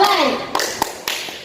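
A classroom concentration clapping game: after a voice, three sharp hand claps land in a steady beat, moderately loud and close.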